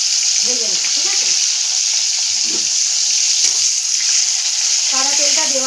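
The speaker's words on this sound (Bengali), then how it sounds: "ভালো করে পেঁয়াজটা আমি ভেজে নেব" Onions fry in refined white oil with a loud, continuous hissing sizzle close by, and faint speech comes through underneath.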